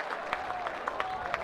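A baseball crowd at a Nebraska home game on a Friday afternoon gives light, scattered applause with claps popping at an even rhythm, slightly distant and steady throughout.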